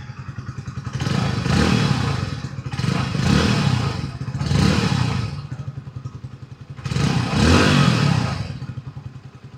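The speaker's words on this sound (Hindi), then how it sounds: "तो सबसे पहले आपको हम एग्जॉस्ट नोट सुनाते हैं।" A black Hero Splendor Plus Xtec 2.0 motorcycle's exhaust note swells in four distinct revs, each rising and falling over the idling engine, loud and close with no talking.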